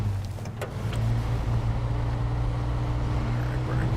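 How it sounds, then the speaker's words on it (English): Heavy truck engine in the SnowRunner off-road driving game, set in Michigan, a steady low droning rumble that holds loud and continuous throughout with a faint rise in the first second. "I do not like the sound of this truck."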